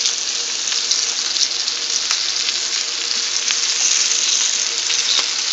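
Flour-coated squirrel pieces sizzle steadily in a hot frying pan, a constant close crackle with small pops throughout and no talk.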